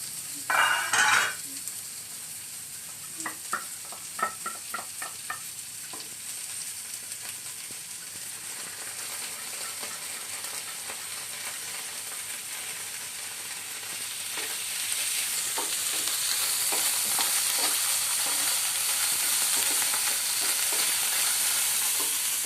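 Chopped onions dropped into a pan over lowered flame, a few clinks and stirring scrapes first, then a steady sizzle and frying hiss that grows louder toward the end.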